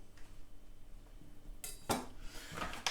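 A knife cuts through croissants on a board with a few faint, brief crackling crunches and light clicks against a quiet background.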